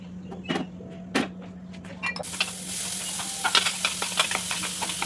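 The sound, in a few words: sautéing chopped onion and green chilli in coconut oil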